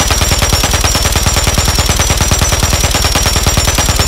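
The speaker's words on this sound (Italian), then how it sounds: "Allora, iniziamo a sparare." A Polemyot 762 in Modern Warfare 3 fires a loud, continuous rapid burst, with evenly spaced shots running without pause for about four seconds.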